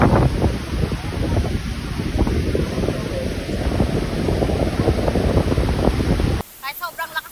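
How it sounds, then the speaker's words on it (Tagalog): Strong wind roars across the microphone at Front Beach, Station 1 in Boracay, a loud continuous buffeting rumble with surf-like wash that cuts off abruptly near the end, followed by brief faint voices. "Kahit sobrang lakas ng hangin dito"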